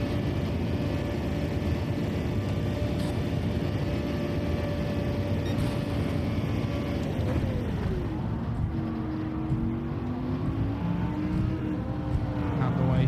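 A Toyota Supra race car engine in Gran Turismo 7 drones steadily at high revs, with its pitch shifting and dropping partway through as gears change, loud and continuous.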